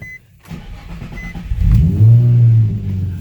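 A Nissan 350Z with a manual transmission swap cranks and catches with the clutch pressed, a short starter whir building into a loud, close engine fire-up that settles into a rising idle.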